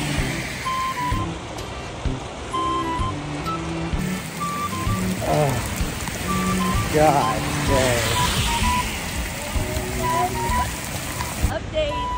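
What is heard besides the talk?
rain falling at Jaco Beach, Costa Rica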